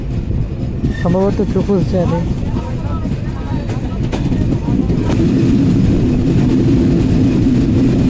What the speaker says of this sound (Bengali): আমাদের ট্রেন প্রবেশ করছে আব্দুলপুর জংশন রেলওয়ে স্টেশনে